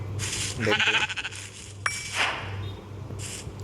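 Video game sheep bleat, a wavering, quavering baa up close followed by a shorter second call, with a small clink in between.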